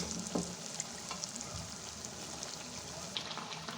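Boiled mutton frying with spice paste in a pot for a mutton biryani, a soft steady sizzle with a few light clinks and stirring scrapes, fairly quiet and without talk.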